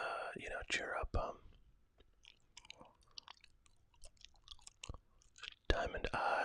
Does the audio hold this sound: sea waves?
no